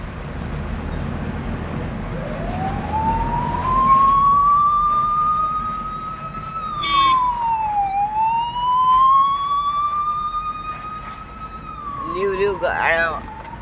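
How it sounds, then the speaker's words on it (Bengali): An ambulance siren wails as it passes along a road in traffic, a single rising and falling tone that swells nearby and fades, over steady road noise with a brief horn-like burst near the end. "আর অ্যাম্বুলেন্স যাচ্ছে একটা"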